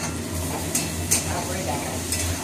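Ginger garlic paste fries in a pan and is stirred, with a steady close sizzle and a few sharp spatula scrapes against the metal.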